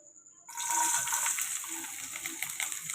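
Capsicum and beans dropped into hot oil on a gas stove, a sudden loud hiss that starts after a short quiet pause and settles into steady close frying sizzle.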